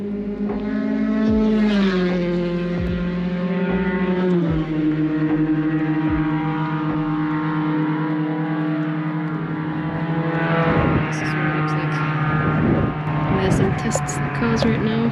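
Swift Cup race cars run during a training session at a Slovak circuit, engines droning loudly as they pass close by and shift pitch, then more cars blast past in quick succession.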